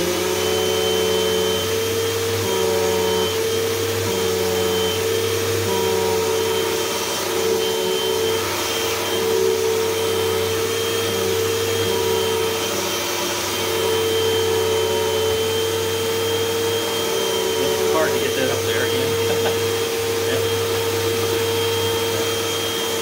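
A bagless upright vacuum cleaner runs steadily on carpet at height position 3, its loud, even motor drone continuing close-up without pause, with no talking.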